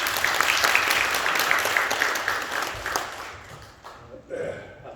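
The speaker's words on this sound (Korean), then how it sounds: "큰 박수로 맞이해 주십시오." An audience at a Busan economic forum applauds to welcome a guest speaker, a steady burst of clapping that fades out after about three seconds, followed by a few faint sounds in the hall.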